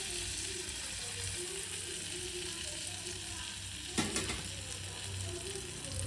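Amul butter melts in a kadai, giving a loud, steady, dense sizzle that runs throughout, with one brief metallic clink partway through.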